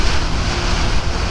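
A fierce storm wind roars during rain, a loud, dense, continuous rush battering the microphone.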